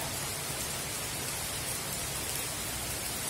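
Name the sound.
rain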